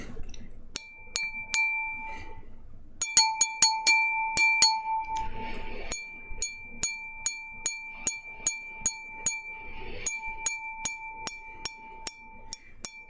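Fingertips tap a glass object in crisp, close clinks, first in scattered bursts, then in a steady, evenly spaced series, each hit leaving a bright, ringing glassy tone.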